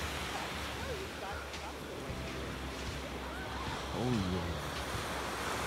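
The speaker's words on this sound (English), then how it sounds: "Walking down to the beach." Ocean waves wash continuously onto a beach, a steady broad surf roar with some wind, heard while walking down to the shore; a voice briefly speaks over it near the end.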